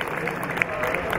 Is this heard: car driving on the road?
no